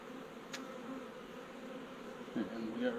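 Honey bees rescued from a storm-felled tree hum in a continuous low drone, close and steady, with faint handling noises as comb is fitted into a frame; a brief click and a voice-like murmur appear near the end.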